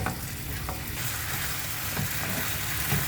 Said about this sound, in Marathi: कोळंबी सुद्धा चांगली फ्राय झाली आहे